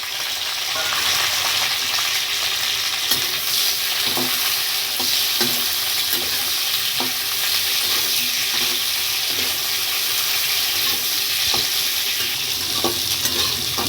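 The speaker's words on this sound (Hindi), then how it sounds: "जिस तेल में मैंने आलू फ्राई करते हैं उसी में भिंडी को फ्राई कर रही हूँ" Sliced okra fries in hot oil left over from frying potatoes, with a loud, constant sizzle and hiss. Stirring clicks and scrapes recur throughout, and no one speaks.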